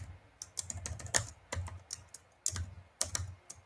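Bursts of keystrokes on a computer keyboard, clattering in quick irregular runs separated by short pauses, close and fairly quiet with no talking.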